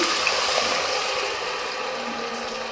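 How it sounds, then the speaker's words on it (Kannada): Water pours steadily into a cooking pot of masala with chickpeas, a continuous close splashing rush that gradually softens, with no talking. "ನೀರು ಎಷ್ಟು ಬೇಕೋ ಅಷ್ಟು ಹಾಕ್ಕೊಳ್ಳಿ"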